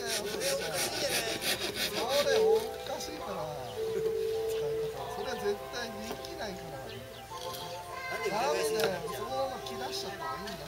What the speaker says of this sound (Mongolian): Хөрөөд гэсэн юм шиг.